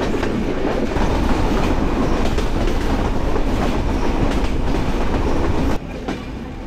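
A train pulls into Chuadanga railway station with a loud, continuous rumble and clickety-clack of wheels on the rails that cuts off sharply near the end, leaving a quieter hum.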